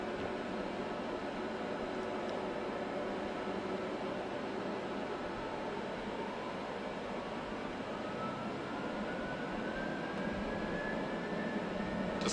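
Boeing 737 jet engines spooling up as the airliner taxis on the ground at Macau, a steady broad roar with a slowly rising whine building toward the end, heard from inside the cabin with no talk.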